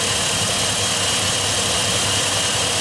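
Car engine running with a 270 amp alternator fitted and shaking slightly, a loud, steady droning hum with broadband whine and vibration, close and constant with no voices.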